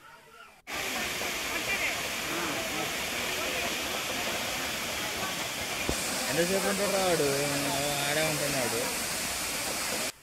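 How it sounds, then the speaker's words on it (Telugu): A small waterfall at Srisailam gives a steady, close rushing hiss of falling water that runs continuously, with a voice speaking over it in the second half. "మనకి ఇక్కడ పక్కనే చిన్న వాటర్ ఫాల్ ఉంది"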